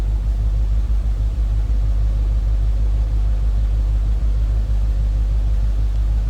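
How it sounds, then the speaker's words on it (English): A deep, steady V8 engine rumble from a 1978 Chevrolet Corvette Pace Car coupe's exhaust, loud and close, holding a constant low throaty drone throughout. "Nice deep throaty exhaust note. Nice sounding car"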